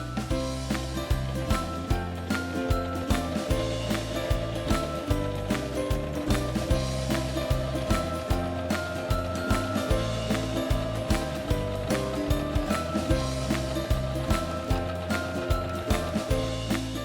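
A Singer Legacy C440 sewing machine sews a decorative stitch, its mechanism clicking and whirring in a fast steady rhythm up close, running continuously without pause and with no talking.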